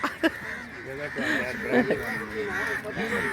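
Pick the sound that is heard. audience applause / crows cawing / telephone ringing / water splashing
crows cawing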